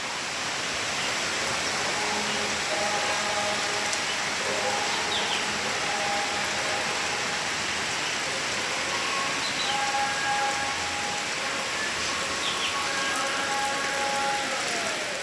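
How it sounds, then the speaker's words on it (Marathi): Heavy rain pours steadily outside, a dense continuous hiss of drops on surfaces that holds at an even level throughout, with no voices. "बाहेर पावसाची रिमझिम"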